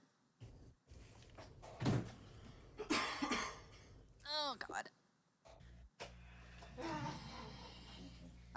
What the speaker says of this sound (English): I cough, I blow my own ears.